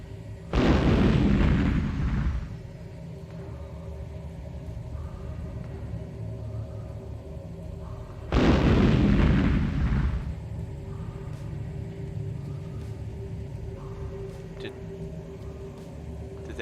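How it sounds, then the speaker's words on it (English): Rocket launcher explosions in the space game Star Explorers, two heavy booming blasts several seconds apart, each a loud rumbling burst that fades over about two seconds into a low hum. "Someone has a rocket launcher and is not shooting at themselves."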